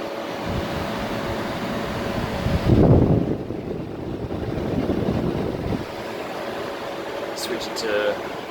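1968 Philco Ford air conditioner fan switched to high, giving a steady broad whoosh of airflow with a faint hum, nearby, with a brief louder bump partway through and a short tone near the end.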